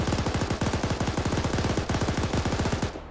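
Rapid automatic gunfire from a BTR armored vehicle in a military video game, a loud, fast, evenly spaced burst of shots that runs for nearly three seconds before cutting off.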